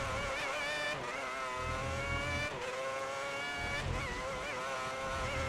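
A Formula 1 car engine in F1 2010 howls steadily at high revs with a bright, buzzing whine, shifting slightly in pitch through gear changes, loud and continuous with no talk.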